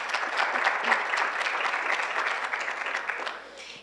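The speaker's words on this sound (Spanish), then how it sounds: "para quien también pido un fuerte aplauso" An audience at an academic humanities panel session in Mexico gives lively, close applause with distinct claps in a steady stream that gradually tapers off toward the end.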